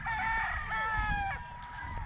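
A rooster crows in a long, loud call close by among many chickens in Negros, with low rumbling background noise throughout.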